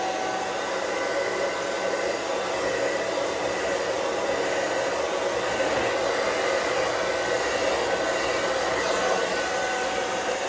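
Hair dryer on low heat blow-drying a beard, a steady close rushing whir of air that holds constant without a break, with no talking.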